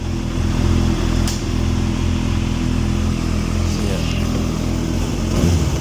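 A motorcycle engine with a newly fitted aftermarket exhaust runs loudly and steadily up close, with a deep throaty exhaust rumble and a slight rev toward the end.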